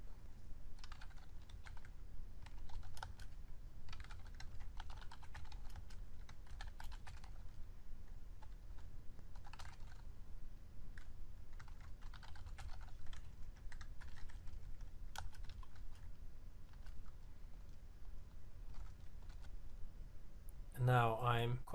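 Code being typed on a computer keyboard, bursts of quick soft key clicks with pauses between them, faint and close, with someone talking throughout.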